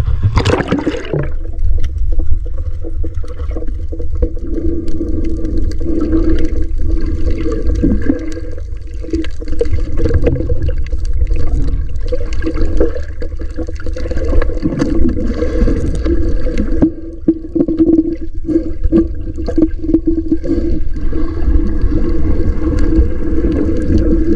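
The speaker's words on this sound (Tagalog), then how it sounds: "Malakas yung alon" Strong sea waves slosh and churn steadily around a small fishing boat, a continuous rough wash of water with low rumbling and occasional splashes, heard close and without talk.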